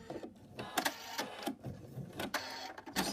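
An embroidery machine stitching, a close mechanical whirring with rapid uneven pulses and brief rattling bursts, steady throughout.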